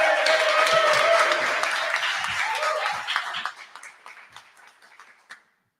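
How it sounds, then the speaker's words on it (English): Audience applause after a panel conversation, a dense burst of clapping that fades away over a few seconds. "So let's give him one more round of applause"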